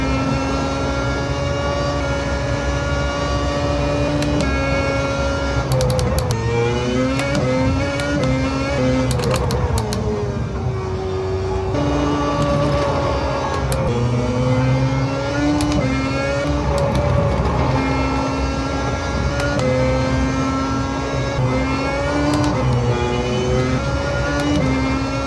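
Rally car engine in a driving simulator game, droning steadily throughout with rising and falling revs as the car accelerates and shifts gears, loud and continuous with no talking.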